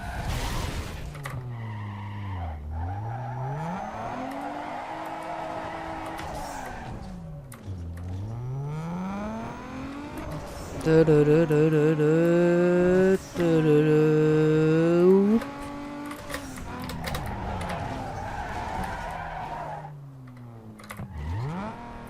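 A Tesla Model S mod car in Need for Speed Underground 2 drives with a steady whining engine tone rising and falling through gear changes, then revs harder into a loud skidding squeal before easing back to cruising.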